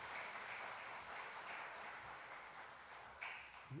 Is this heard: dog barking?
no